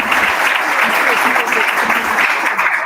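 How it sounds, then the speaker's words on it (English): A breakfast audience at a women's market access event claps after a keynote: dense, steady applause, close and loud, with a few voices mixed in. "you're clapping."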